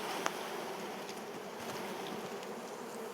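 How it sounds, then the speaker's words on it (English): Honeybees buzz close by as they are shaken off a cross-built comb just above a Flow Hive brood box, a continuous droning swarm hum with a brief knock near the start. "I'm just going to shake the bees off,"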